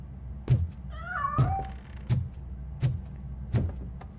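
A cat meows once, clear and wavering, in the video game RoboCop: Rogue City, while heavy rhythmic metallic footsteps thud steadily about every three-quarters of a second underneath.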